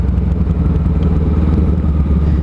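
A Honda CMX500 Rebel bobber-style cruiser motorcycle engine thrums steadily and close up while riding, a low continuous rumble with slight rough pulsing and wind noise.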